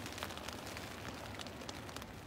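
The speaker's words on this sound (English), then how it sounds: "And here comes the rain." Rain pattering steadily on a tent while camping in a truck bed, a soft, even wash of drops with a few slightly louder taps, close and continuous with no talking.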